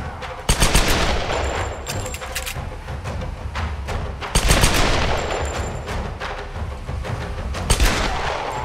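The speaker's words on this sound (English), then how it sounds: "Bullets! Full on bullets." Heavy gunfire in the action game Tomb Raider (2013): dense, sustained bursts of loud shots with thumping impacts. The barrage swells twice and stays close and continuous.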